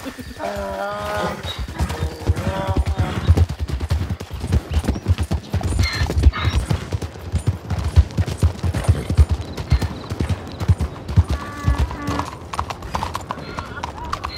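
Horse hooves clip-clopping in Red Dead Online, a steady rhythmic trot close by, running under frequent talk throughout.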